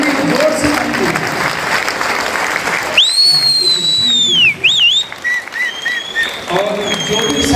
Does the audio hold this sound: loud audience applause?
yes